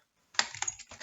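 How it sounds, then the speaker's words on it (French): Several quick keystrokes on a computer keyboard, close and fairly quiet, come after a brief silence, a short irregular burst of clicks with no talking. "j'ai mes doigts qui font n'importe quoi sur le clavier"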